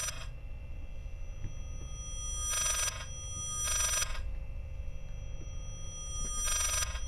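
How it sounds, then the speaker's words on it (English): Telephone ringing in the horror game Layers of Fear: three bursts of bright electronic bell trill ring out over a low droning ambient hum, each lasting about half a second to a second, spaced irregularly. "Can I answer the phone or no?"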